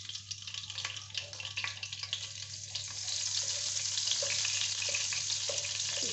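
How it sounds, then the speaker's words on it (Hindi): Oil and a little butter sizzle in a kadai, a close crackle with scattered pops that thickens and grows louder and steadier in the second half, no talking over it. "अब ऑयल डालते हैं कढ़ाई में। और थोड़ा सा मक्खन डाल देते हैं।"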